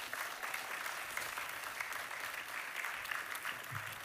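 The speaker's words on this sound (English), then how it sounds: "Mr. Ambassador Alan Leventhal, give him an extra round of applause here" Steady applause from an audience at the Rebild festival celebration, dense clapping holding at an even level throughout, moderately distant and without speech.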